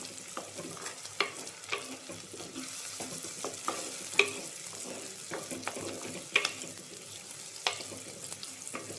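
Okra frying in a pan for a dal and mango curry, a low continuous sizzle punctuated by frequent light clicks and taps of stirring, fairly quiet and close.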